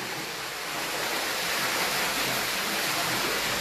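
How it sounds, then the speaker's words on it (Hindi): Water pours steadily into a cottage swimming pool, a loud, constant broadband rush with no breaks, close by. "इसमें पानी भरा जा रहा है।"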